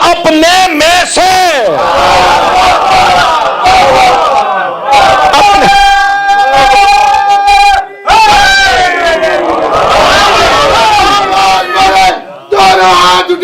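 A large religious gathering chants slogans in unison with raised hands, loud, close voices rising and falling in repeated rhythmic bursts, with crowd roar and cries filling the space throughout.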